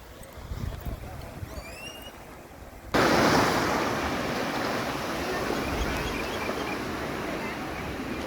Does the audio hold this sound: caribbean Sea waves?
yes